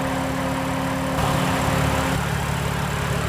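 A 2015/2016 BMW M4 Coupe engine idling, a steady close mechanical hum and drone that holds evenly throughout without revving.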